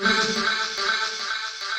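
A synth sample pitched one semitone step down, a steady sustained bright tone with bright upper harmonics and faint rhythmic pulses, heard alone for about two seconds.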